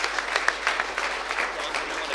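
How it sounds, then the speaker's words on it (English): Audience applause at an evening event with Charlie Kirk and Candace Owens marking the founding of Turning Point UK: steady, fairly faint crowd clapping with no gaps. "Let's have another round of applause for..."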